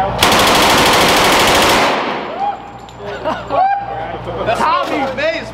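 Real firearms modeled on Call of Duty weapons let loose a loud, rapid automatic burst for about two seconds, followed by people talking and laughing close by.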